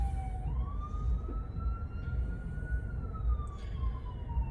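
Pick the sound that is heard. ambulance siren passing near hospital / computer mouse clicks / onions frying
ambulance siren passing near hospital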